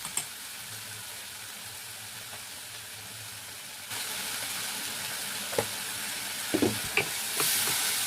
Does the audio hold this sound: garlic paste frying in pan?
yes